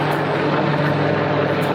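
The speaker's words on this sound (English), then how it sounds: "So occasionally you'll hear the helicopters come over" Military helicopters pass over a campground near a military base, producing a loud, steady rotor and engine drone that fills the whole moment with no talk.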